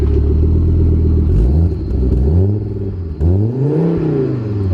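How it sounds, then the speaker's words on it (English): A Saab car engine at a car meet revs up and falls back repeatedly, each rise climbing and dropping in loud, close rumbling sweeps, with no talk over it. "Hey, give us a couple revs."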